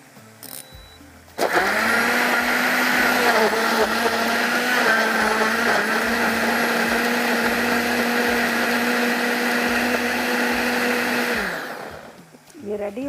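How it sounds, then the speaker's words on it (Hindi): A kitchen blender grinds a paste for a tangy dahi baingan gravy, whirring loudly and steadily for about ten seconds before spinning down, with faint clicks before and after. "यहाँ पर ब्लेंडर को चलाते हैं, इसका पेस्ट तैयार करते हैं।"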